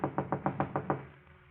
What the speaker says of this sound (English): a knock at Gloria's apartment door